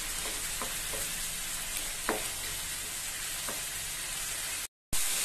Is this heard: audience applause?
no